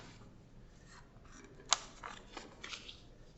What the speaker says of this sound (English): So now we're going to fold again.